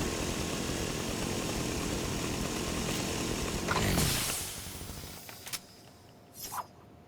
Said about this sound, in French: Pratique d'avoir une tronçonneuse pour se déplacer quand même.